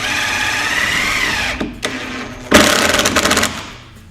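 A power drill drives 2.5-inch screws into an Andersen A-Series patio door frame, with a steady whine, brief pauses, then a louder burst of rapid, pulsing drilling, close and alone.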